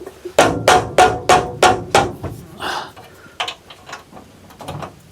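A hammer strikes sharply on the bolts of a transmission cross member while a rebuilt 350 Turbo transmission goes into a 1964 Chevrolet C10, with about eight quick metallic blows in a steady rhythm, then scattered lighter taps and clanks.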